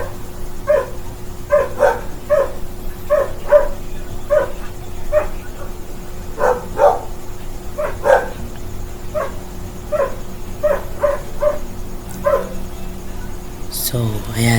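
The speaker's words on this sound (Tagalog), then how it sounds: "Ano itong mga aso itong ingay naman?" Dogs bark in a steady run of repeated, evenly spaced yaps at moderate distance, continuing for many seconds over a constant low indoor hum.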